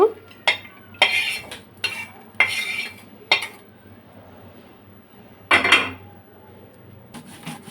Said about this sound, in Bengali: বাদামটাকেও খুব মিহি করে আমি বেটে নিচ্ছি